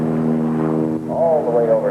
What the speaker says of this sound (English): Charlie is going to fly his airplane right in